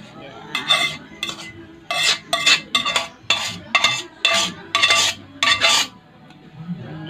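Beef skin adobo is scooped onto a plate with a metal utensil, giving a run of about nine close, bright scraping clinks of spoon against dish, bunched in quick bursts with brief pauses between.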